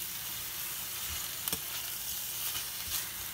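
Bok choy leaves and garlic sizzle and fry steadily in a hot skillet, a close, continuous crackle with a couple of sharp pops, no voices.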